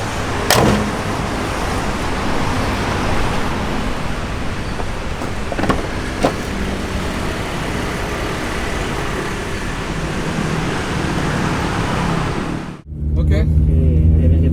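Daihatsu Xenia 1000 cc turbo car driving, a continuous roadway rumble and engine drone heard from inside the cabin with brief knocks, ending in a sudden cut and a door-like thud.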